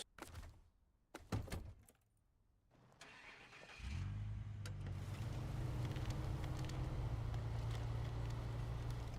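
A lifted truck in SnowRunner fires up from a few clicks and rattles into a loud, steady engine idle that holds for several seconds, rumbling close and alone.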